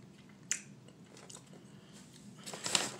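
Frosted-flake-style cereal is chewed up close, soft crunchy bites and squishy mastication in short bursts, with a sharper crunch near the start and again at the end, quiet and without talking.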